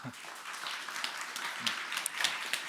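Audience applause for two guest speakers at the close of a talk event on aging and new careers, a faint, steady wash of many hands clapping in a hall.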